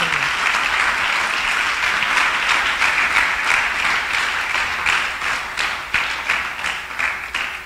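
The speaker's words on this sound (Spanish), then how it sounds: "Dele un aplauso al Señor." A church congregation claps steadily in sustained applause, dense and even throughout, fading slightly toward the end.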